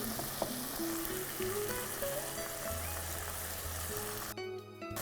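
Bottle gourd with green chilli and salt sautéing in a pan, a strong steady sizzle with stirring and occasional utensil clinks, ending in a brief sharp burst, no voices.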